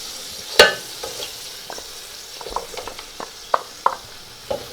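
Onions fry in just under a cup of oil for chicken pilau under a soft, quiet sizzle, broken by scattered clinks and scrapes from a stirring spoon.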